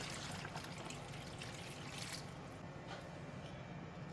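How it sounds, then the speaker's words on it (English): Diluted coconut milk pours into a pot of green curry chicken, a soft, steady liquid trickle that fades near the end, quiet and close with no talking. "This is 300 ml of diluted coconut milk. I'm going to add it in."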